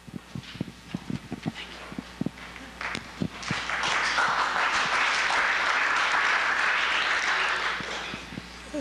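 Audience applause at an evening lecture on architectural conservation, starting as a few scattered claps and swelling into sustained, full clapping from a seated crowd that holds steady to the end.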